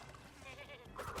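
Sheep bleating from an enemy in the Crash Bandicoot game, a short wavering animal cry rising toward the end over a busy game soundtrack, fairly loud and close.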